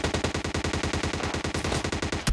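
A bot fires a rapid automatic gun in PUBG Mobile Lite, a steady fast string of close, loud shots in an even rhythm, ending with a sharper final crack.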